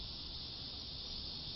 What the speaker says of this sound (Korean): 어쩐지 유독 매미 소리가 더 커진 것 같습니다.